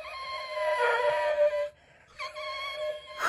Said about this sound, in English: what is wrong with this dog?